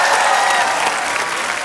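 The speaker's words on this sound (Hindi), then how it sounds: "जोरदार तालियां।" Loud, dense studio audience applause on a comedy talk show with Diljit Dosanjh as a guest, a steady wash of many clapping hands filling the whole moment without speech.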